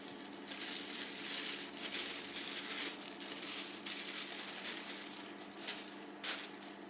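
Plastic packaging around a silicone hand crinkles and rustles in close, continuous bursts, soft overall with a few sharper crackles toward the end.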